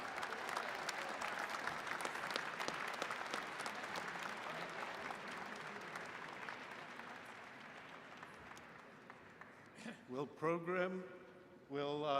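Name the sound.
audience applause for graduates at a graduation ceremony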